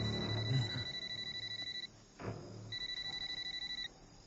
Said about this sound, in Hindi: ये देख, जीजा का फोन आ रहा है।